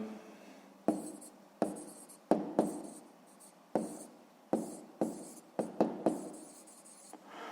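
A pen writing numbers for a sixth-grade maths exercise on paper, a series of about a dozen scratchy strokes, each starting with a sharp tap and fading, close and fairly quiet.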